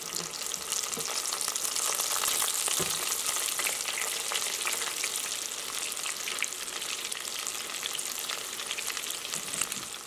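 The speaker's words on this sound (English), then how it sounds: "I'm just gonna take them off from the deep fryer. And we're gonna do our next batch." Coconut shrimp deep-frying in a deep fryer, a steady close crackle and hiss of bubbling oil that lasts throughout, with no speech.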